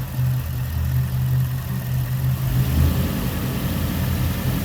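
Engine of a Toyota Celsior (Lexus LS400) held at raised revs during diagnosis after a plug change, a steady loud drone with a low hum and slight fluctuation, no voices.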